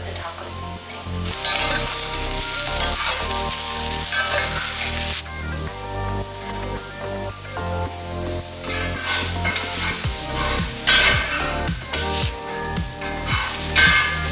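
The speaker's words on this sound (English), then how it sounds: "We are going to let our veggie mixture crisp up on each side" A veggie mixture fries and crisps in a pan, sizzling continuously and fairly close, with bursts of stirring and scraping, and no voices.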